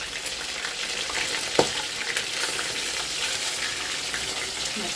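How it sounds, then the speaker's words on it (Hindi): Fish sizzles in hot oil in a pan, a steady bright crackle with a single sharp pop and faint stirring sounds, close and unbroken. "दूसरा वाला बैच भी हम डाल के ऐसे ही फ्राई कर लेंगे"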